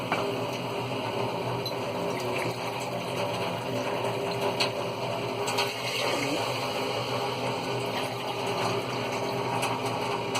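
Water pours steadily from a glass into a pot of red masoor lentils for a dal, a continuous close gushing and filling sound with no talk over it.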